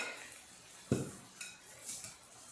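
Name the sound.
whisking Bisquick, egg and milk in a bowl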